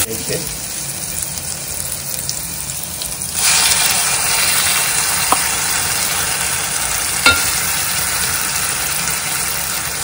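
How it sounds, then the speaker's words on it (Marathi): Onion and curry leaves sauté in hot oil in a pan, a steady close sizzle that suddenly grows louder and brighter partway through and then holds, with a couple of faint ticks. "कांदा आणि कढीपत्ता थोडासा परतवून घ्यायचा"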